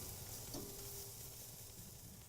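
Chicken and shiitake mushrooms sizzle steadily on a grill, a constant broad frying hiss with one brief louder flare near the start.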